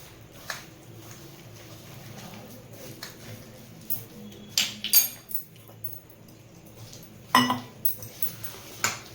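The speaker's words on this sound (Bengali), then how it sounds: "এরম করে ফেটিয়ে নিতে হবে" Fish fry batter is whisked by hand in a bowl, giving faint, scattered clinks and taps against the bowl that bunch into short bursts over a quiet background, with no talking.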